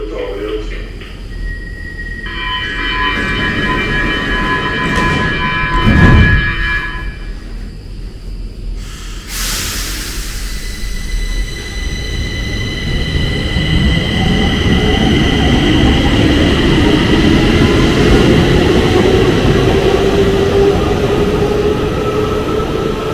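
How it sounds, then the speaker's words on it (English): Stockholm T-Bahnen metro train in a station, rumbling loudly with tonal electric whines and a chime, a brief burst of air, then building motor drone and rising whine as it pulls away. "the typical sound of the Stockholm T-Bahnen, this is definitely a little different to the Munich U-Bahn"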